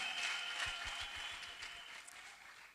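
Applause from a congregation at a church wedding ceremony, a faint, distant patter of many hands clapping that slowly fades over a few seconds.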